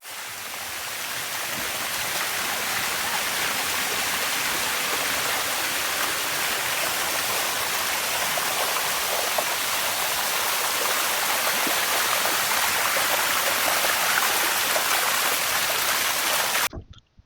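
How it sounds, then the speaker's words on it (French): The Sticky Waterfall near Chiang Mai cascades in a constant, close rushing hiss of falling water that holds steady for a long stretch before cutting off abruptly. "franchement, j'ai adoré cette cascade."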